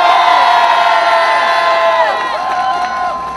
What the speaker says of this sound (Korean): 뜨거운 박수 함성으로 맞이하겠습니다